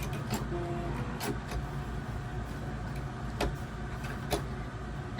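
A sewing machine stitches straight across a dress's fabric with a steady, close motor hum and occasional small mechanical clicks, and no voices.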